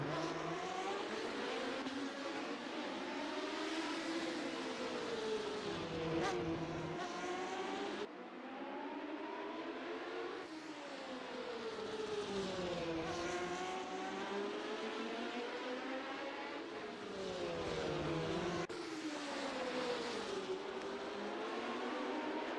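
1970s Formula One race cars scream around the Montjuïc Park street circuit in Assetto Corsa, engines rising and falling through gear changes as several cars pass in turn, loud and continuous with no voices.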